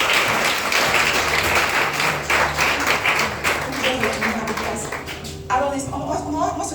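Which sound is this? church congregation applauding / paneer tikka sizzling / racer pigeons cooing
church congregation applauding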